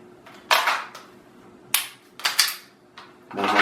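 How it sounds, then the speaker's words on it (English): A handgun fired at full speed after a draw from a holster: about five sharp, loud reports in an irregular sequence, two close together near the middle, with quiet gaps between. "High purchase, finger on trigger, lock, extend out the target, and fire."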